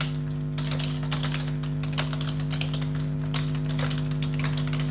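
Light, rapid typing on a computer keyboard while data and some random numbers are entered into a form, a steady patter of key taps over a constant electrical hum.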